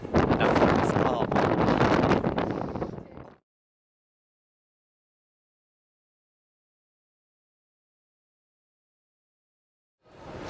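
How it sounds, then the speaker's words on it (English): Strong wind buffets the microphone in a loud, rough roar for about three seconds, then cuts off abruptly into silence. "Oh my god, it's so windy."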